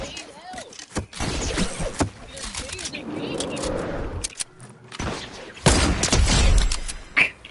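Sharp gunfire from a sniper rifle in a video game rings out in several loud, separate bursts with short gaps between them, while background voices and game noise carry on underneath.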